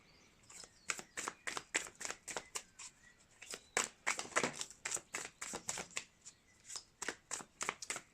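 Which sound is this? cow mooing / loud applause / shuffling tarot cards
shuffling tarot cards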